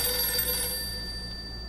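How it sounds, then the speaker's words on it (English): A telephone ringtone in a video game, a sustained electronic ring with steady tones, loud and close, fading slightly over the short stretch with no talk. "It's like a random phone that you hear into the ringtone."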